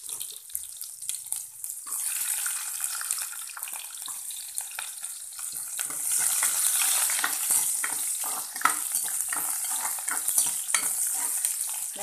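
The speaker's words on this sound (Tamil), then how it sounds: "கடுகு பொரிஞ்ச உடனே நம்ம வெங்காயம் போட்டுக்கலாம்." Chopped onion goes into hot oil after mustard seeds splutter for idli sambar, starting quiet and building into a steady, close crackling sizzle with light stirring.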